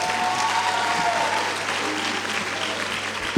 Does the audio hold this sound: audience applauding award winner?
yes